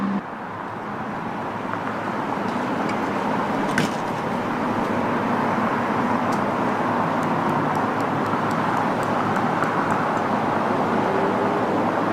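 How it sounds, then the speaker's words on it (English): A St. Augustine police car drives past on a street, heard as a steady broad road hum with a few faint clicks, fairly distant and with no talk. "St. Augustine police driving by the nation's oldest city"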